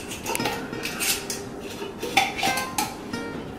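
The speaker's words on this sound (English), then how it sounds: "Then we shake the bottle." A lidded bottle of homemade salad dressing with salt and pepper is shaken, giving a few quick close rattles and clinks in a short burst with no talking.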